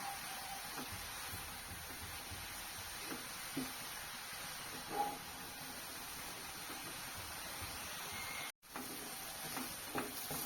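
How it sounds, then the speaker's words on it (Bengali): Grated carrots for halwa frying in a pan, a soft, even sizzle running steadily throughout with a few faint stirring touches, fairly quiet and without voices. "এইভাবে করে ভেজে নেব যতক্ষণ না গাজরের একটা কাঁচা গন্ধ চলে যায়"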